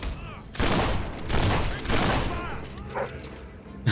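Several loud, close gunshot blasts come in quick succession, booming and echoing over a few seconds while people talk alongside.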